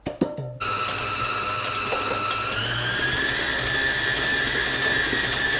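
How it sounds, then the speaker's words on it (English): An electric mixer whirs steadily, beating icing sugar and butter into a pale, fluffy frosting for Biscoff cupcakes; after a brief clatter at the start, the motor hum runs loud and continuous with no talking. "mix that until it's nice and fluffy"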